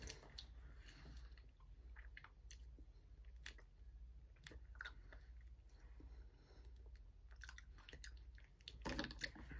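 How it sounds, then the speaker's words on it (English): Someone chews freeze-dried eggs close to the microphone, with soft, irregular crunches and squishy bites continuing steadily for several seconds, a little louder near the end. "You have to chew them like kind of for a while though."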